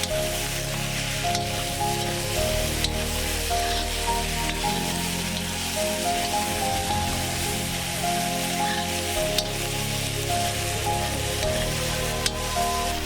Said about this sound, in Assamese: কিছু সময় ভাজিলে মাংসবোৰৰ পৰা তেল নিগৰিব ধৰিব